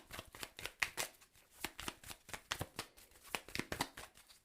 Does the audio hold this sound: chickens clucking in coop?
no